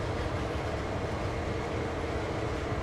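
A CSX heavy haul freight train rolls along in the Train Sim World video game on the Sand Patch route, giving a dense, continuous rumble and rattle of wheels and wagons, close and steady throughout.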